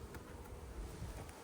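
Honeybees buzzing steadily around an open hive of six frames during an inspection, a dense continuous drone close by with no talk over it.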